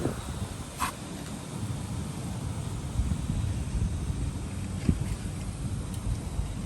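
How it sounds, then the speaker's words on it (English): Outdoor wind at about five miles an hour in cold, gusty conditions, a steady broadband rush with low rumbling buffets on the microphone, continuous and moderately loud with no talking. "5 mile an hour winds right now."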